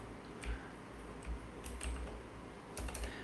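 Keystrokes on a computer keyboard, a few scattered clicks and short bursts at moderate distance, soft and fairly quiet, with no talking.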